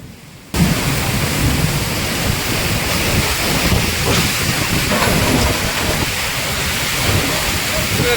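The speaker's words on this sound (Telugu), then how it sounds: "వానను నెట్టేస్తూ గాలి గాలిని గెంటేస్తూ వర్షం పోరాటంలా కనిపించింది" After a brief quieter moment, cloudburst rain roars in, a dense, steady downpour driven by gusting wind, loud and close.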